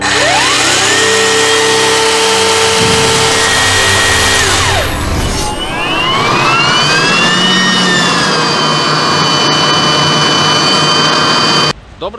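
A new 2021 Black+Decker cordless garden tool runs loud and close, a steady high motor whine that dips as it slows and then rises again before cutting off abruptly.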